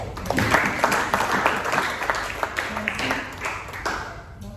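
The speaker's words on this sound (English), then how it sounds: "We can clap better." A church congregation at a Sunday service claps in quick, uneven bursts, many hands close by and fairly loud, with scattered voices and a few cheers mixed in.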